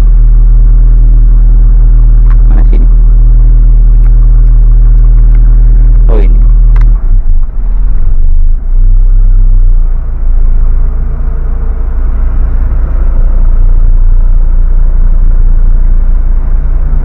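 A 1995 Mitsubishi Lancer Evo 3 with a 1600cc injected engine idling with the air conditioning switched on, a loud, steady low rumble that shifts to a rougher drone partway through, close up and continuous.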